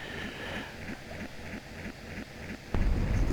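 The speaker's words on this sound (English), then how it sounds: "yeah, you can hear the engine of that ship." A ship's engine picked up on sonar in the Amiga submarine game 688 Attack Sub pulses in a steady, regular low throb about three times a second before a sudden louder burst of rumbling noise takes over.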